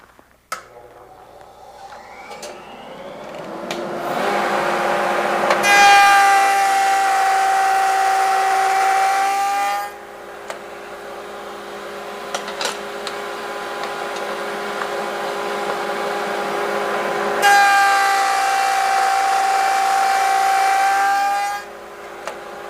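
A router cuts a cope and stick profile on a clamped door part, its high whine rising loud for about four seconds, dropping back to a steady idle hum, then surging through a second pass before settling.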